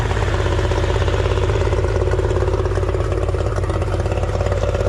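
A Yamaha 30 hp outboard motor idles in neutral, steady and close, with a loud, even, rapid chugging rumble that never changes pace.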